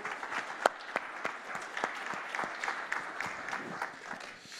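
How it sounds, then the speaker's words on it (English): Steady applause from an audience at a corporate cybersecurity program event, many hands clapping continuously with a few sharper individual claps standing out, moderately loud and sustained. "So let's give them a warm round of applause."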